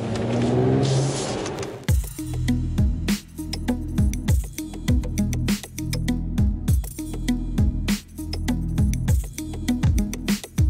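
A Mercedes CLS 53 AMG engine revs repeatedly in sharp bursts, each throttle blip rising and falling, with loud exhaust crackle between revs and no talking.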